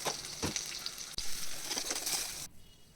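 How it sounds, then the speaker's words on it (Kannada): Spices crackle and sizzle as they are tempered in hot ghee for khara pongal, a loud continuous frying hiss with bursts of popping that cuts off abruptly near the end. "ಇಲ್ಲಿ ನಾನು ತುಪ್ಪ ಬಳಸ್ತಿದ್ದೇನೆ ಒಗ್ಗರಣೆಗೆ"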